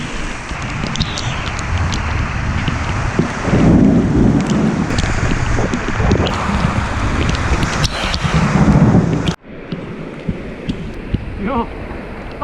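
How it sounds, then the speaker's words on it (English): Heavy rain pours in Costa Rica, a dense roaring hiss with swelling rumbles of thunder, loud and close, dropping suddenly to a softer patter near the end. "We're waiting for the rain to go out."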